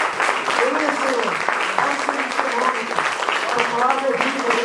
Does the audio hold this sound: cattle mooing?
no